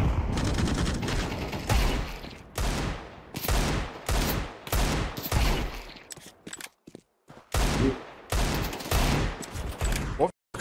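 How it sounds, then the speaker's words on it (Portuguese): Gunfire comes in rapid bursts and single shots during a shooter video game on an iPhone. The shots are loud and dense and repeat throughout, broken by short gaps, and the player's voice is heard between them. "O cara não tem medo de tocar tiro não"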